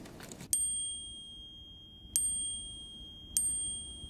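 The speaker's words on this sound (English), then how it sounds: "So many notifications." An Apple Watch smartwatch gives three bright notification chimes, each a sharp ding with a ringing tail, spaced about one and a half seconds apart over a quiet background.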